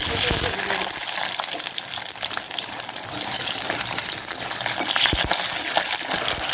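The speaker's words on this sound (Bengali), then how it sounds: "মরিচটা ভাজার পরে পেঁয়াজ রসুনটা যখন তেলে দিলাম" Dense, bright hissing sizzle of onion and garlic hitting hot oil after chillies, steady and close, with a few clinks of a utensil against the pan.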